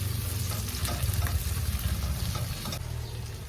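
Chopped onion and garlic sizzle steadily in a hot pan for a home-cooked giniling with enoki mushroom, a continuous close frying crackle with light stirring scrapes throughout and no talking.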